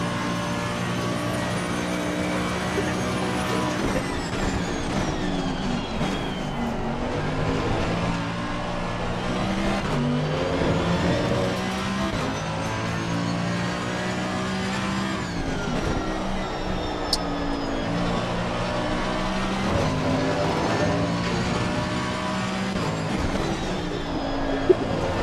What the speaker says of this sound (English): It sounds like a motorbike.